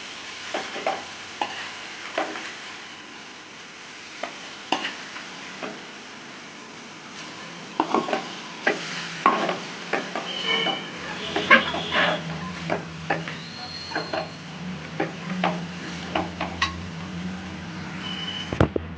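Vegetables for soft veg noodles being stirred in a pan over a slow flame: repeated close spatula scrapes and taps, irregular at first then busier, over a faint sizzle that grows steadier partway through.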